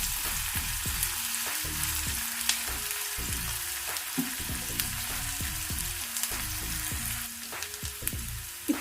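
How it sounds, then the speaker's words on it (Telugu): Onions fry in a pan for aloo matar korma with a constant close crackling sizzle, while a faint melodic tune plays underneath throughout. "ఉల్లిపాయలు వేసుకున్నాం కదా, కొంచెం ఇవి వేగాలి"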